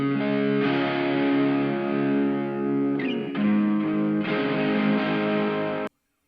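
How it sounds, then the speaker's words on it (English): A recorded rhythm guitar track played through a Boss Katana Mini amp, taken direct out to a computer with a cab simulator: steady distorted chords, sustained and full, with a brief change near the middle before stopping abruptly. "first of all we've got this rhythm track which I'd recorded, which sounds like this."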